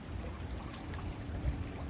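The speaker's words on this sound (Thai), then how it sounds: "บรรยากาศลำธารน้ำไหล" A stream flows through autumn woods in Germany, giving a steady, low rushing murmur of moving water that stays constant and fairly soft throughout, with no voices.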